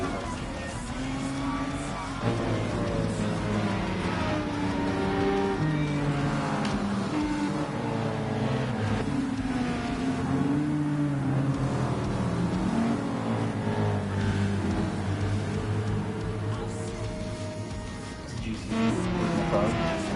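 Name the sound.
car engine driving in Gran Turismo Sport video game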